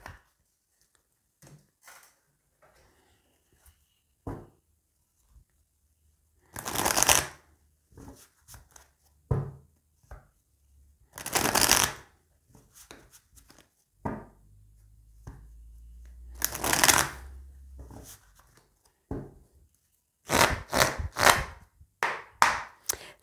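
An Oracle des Météores deck of oracle cards is shuffled in several separate bursts of quick riffling and flapping, close and fairly loud, with quiet pauses and soft taps between the bursts and no talking.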